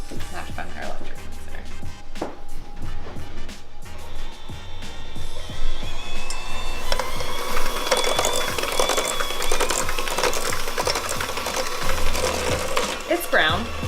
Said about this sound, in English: Then we are going to take an electric mixer and mix this all up.